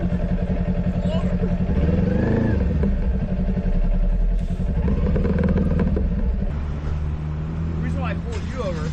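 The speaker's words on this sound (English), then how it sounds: "you're revving your engine like a jerk" A motorcycle engine revs loudly and continuously nearby, rising and falling in pitch, with a voice talking over it.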